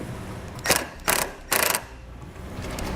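A ratchet fitted with a swivel and an extension drives a 10mm bolt back into place during a base plate install on a 2018 Ford Focus. Three short, close bursts of clicking are separated by pauses, with no talking.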